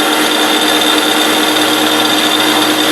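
A Kündig Uniq edge sander runs with its oscillation engaged, giving a loud, continuous, steady machine whine and hum with no pauses, heard up close and alone.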